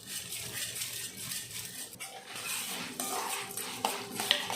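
Coriander seeds dry-roasting with lentils in a pan for a brinjal kuzhambu: a spoon scrapes and clinks against the metal as the seeds are stirred, with a soft rustle of grains and a few sharper taps near the end.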